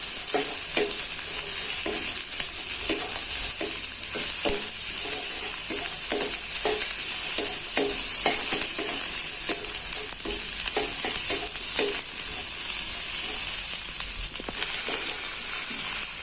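Chili and onion frying and being stirred in a pan, a steady close sizzle broken by repeated scraping strokes, with no talking.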